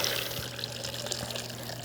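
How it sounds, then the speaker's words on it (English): A cocktail is poured back and forth between glasses in a soft, continuous liquid trickle and splash, fairly faint over a steady background hum. "you're going to gently pour it, raise it nice and high, and you can then add that back in and pour right back out"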